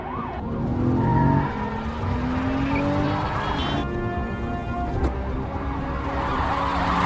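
A movie car chase between a hitman and local police unfolds with screeching tires and wailing sirens rising and falling over loud engine roar and impacts.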